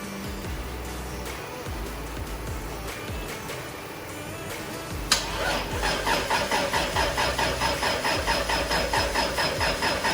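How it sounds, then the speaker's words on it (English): A Toyota Supra engine cranks in a steady rhythmic turnover, then a sharp click is followed by faster, stronger pulsing cranking that runs on evenly to the end, fairly close and with no talk. "I'm going to go ahead and crank it a few times and see what it does."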